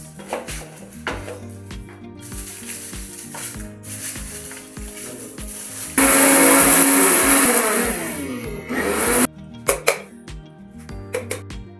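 A blender grinds chilli and coriander spices into masala, a loud, dense whirring burst lasting about three seconds that swells over steady background music, then cuts off abruptly.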